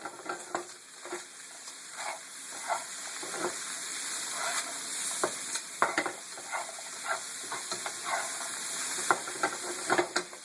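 Onions and zucchini frying in a pan, a steady close sizzle with repeated stirring scrapes and clacks every second or so, no talking.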